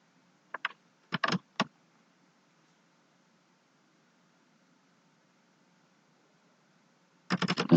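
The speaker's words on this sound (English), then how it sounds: "let me type it manually" Bursts of typing on a computer keyboard in a quiet room: a few quick clusters of keystrokes early on, a long pause, then a denser run of key presses at the end, close and fairly soft.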